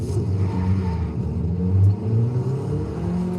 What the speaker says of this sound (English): Nissan Silvia here. Nismo